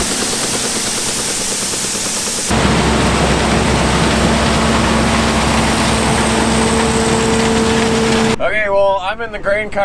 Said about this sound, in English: I'm in the tractor that's hauling the grain buggy